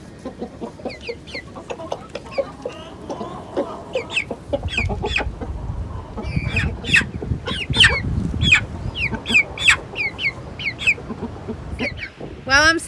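Adult chickens and baby chicks from a backyard flock cluck and cheep together outdoors, with a busy run of close chirps over low ambient rumble and no clear talk.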